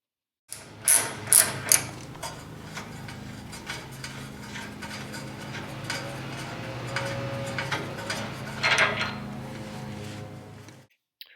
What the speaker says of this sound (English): We're loosening the lower control arm mounting bolts.